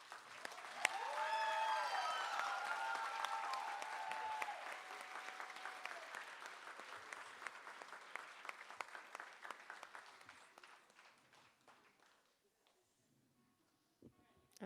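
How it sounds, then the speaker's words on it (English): Live audience applause at a Rangmanch Pravesh stage performance starts loud and dense, with a few whoops, then slowly thins out into scattered claps before fading near the end. "so we can give you another round of applause"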